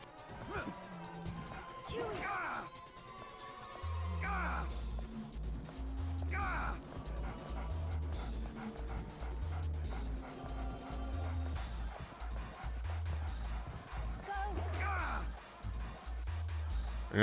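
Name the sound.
dog barking in video game Haunting Ground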